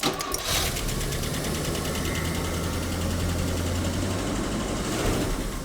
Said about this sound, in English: Straight away, that sounds great. Yeah, I mean, you get a tappity noise.